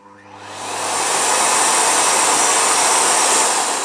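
A Miele Complete C3 canister vacuum cleaner switches on and spins up within about a second to a loud, steady roar at maximum suction, with no talking.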